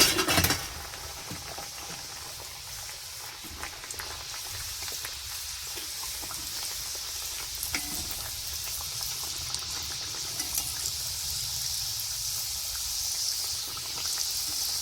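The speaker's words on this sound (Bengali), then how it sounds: "তেলের মধ্যে দিয়ে দিচ্ছি" Kachori deep-frying in hot oil gives a steady, close sizzle and fine bubbling hiss that runs unbroken for about fifteen seconds, with occasional tiny pops and no voices over it.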